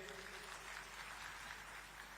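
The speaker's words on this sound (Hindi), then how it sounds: "तो उनके लिए एक बार आप सब लोग ताली बजाइए" Crowd applause at the Kudargarh Mahotsav 2025 festival gathering, where the Chief Minister is present, comes through as a steady, dense wash of clapping, faint and distant throughout.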